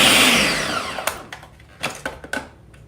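A blender mixing frozen sherbet whirs loudly at first, then winds down into a few scattered knocks and clunks as the motor stops.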